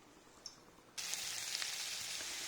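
Chopped onions, capsicum and green chillies hit hot oil in a pan for home-style egg fried rice, bursting into a loud, steady sizzle after a brief quiet moment and holding it to the end.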